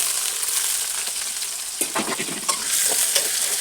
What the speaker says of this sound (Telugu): ఈ ఉల్లిపాయలు అనేది మనకు బాగా వేగాలి